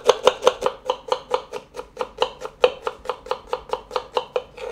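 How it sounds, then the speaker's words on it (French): Kitchen knife chopping halved shallots on a cutting board, about twenty quick, sharp, evenly spaced cuts in a steady close rhythm, with no talking. "je vais commencer d'abord par éplucher mes échalotes et les ciseler"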